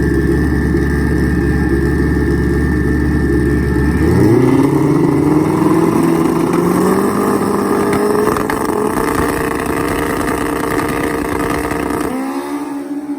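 Turbo Hayabusa pro street motorcycles at a drag race: a loud, sustained engine roar that climbs in pitch as the bikes launch and pull hard down the track, fading slightly at the end.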